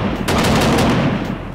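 A bassy, loud video game gunshot effect, a dense burst of rapid booming shots with a heavy low end that fills the whole moment, close and powerful with no talk.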